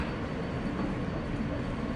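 Steady loud rumble and rattle of a New York subway car riding toward Rockefeller Center, a continuous dense roar with no pauses or voices.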